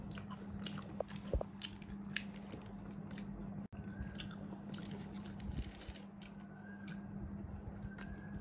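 A macaroni snack that has gone soft is bitten and chewed close up: a few sharp bite clicks followed by soft, moist chewing and squishing, with no talking.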